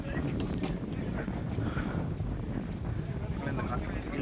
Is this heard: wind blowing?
yes